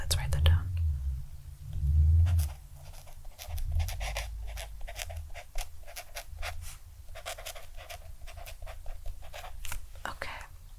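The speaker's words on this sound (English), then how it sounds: "So let's write that down." Pen writing in a paper planner, soft scratchy strokes in an irregular rhythm, heard up close and quiet, with whispered speech at the start and faint breaths between strokes.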